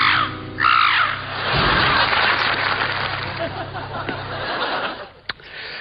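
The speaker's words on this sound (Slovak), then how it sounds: "Preletí vypchatá vrana." A crow caws as a stuffed crow is flown overhead in a comedy sketch, a harsh call over a noisy room with chatter and a low hum, then fading.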